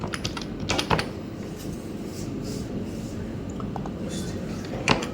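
Keys on a computer keyboard clatter in quick irregular bursts while someone fills in an online registration form, with the taps faint and partly masked by a steady room background.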